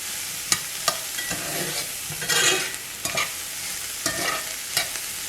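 Chicken casserole ingredients sauté in a cast iron skillet on a burner, a soft sizzle beneath repeated sharp spoon scrapes and stirring knocks spaced a second or so apart, close and without talk.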